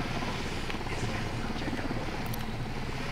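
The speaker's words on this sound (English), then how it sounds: "Chopper's approaching." Helicopter in the video game Ghost Recon Wildlands, a steady, loud rotor thump and engine drone that fills the whole moment as it draws close, without any speech over it.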